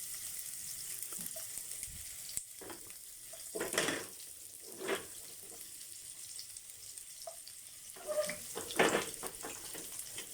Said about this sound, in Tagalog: Ayan, magigisa na tayo. Unahin natin yung sibuyas.